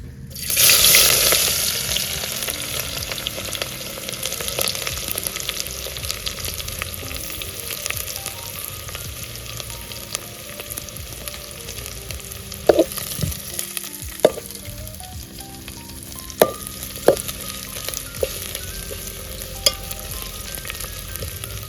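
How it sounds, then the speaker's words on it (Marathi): Chopped onion frying in hot oil in a home kitchen pan, a continuous loud sizzle that starts with a sharp burst and holds steady, with occasional stirring clinks and scrapes near the end. "कांदा भाजतोय"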